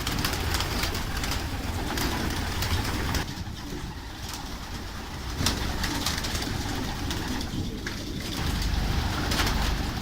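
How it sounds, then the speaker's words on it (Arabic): Pigeons in a pigeon loft tower coo softly and repeatedly throughout, layered over a constant background hiss, with no one talking. "استعداد الحمام لفتح الابواب ان شاء الله عن قريب"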